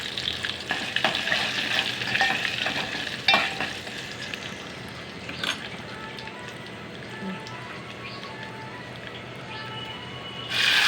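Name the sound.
spices sizzling while tempering for ridge gourd curd chutney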